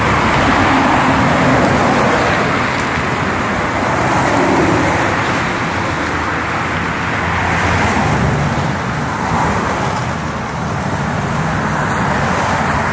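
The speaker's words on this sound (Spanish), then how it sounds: "Si puedes ver atrás de mí, todos los carros están pasando." Steady road traffic on a city street, with cars, buses and trucks passing continuously at moderate distance and swelling and fading as they go by; no voices.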